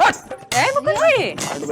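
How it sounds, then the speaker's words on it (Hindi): Dogs yip and whimper in quick, close, fairly loud bursts with rising and falling whines, crowded together over a brief moment. "कुत्ते इकट्ठे हो गए लापता करने।"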